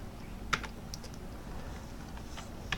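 Sparse keystrokes on a computer keyboard, a few soft, close clicks scattered over a quiet room background with no talking.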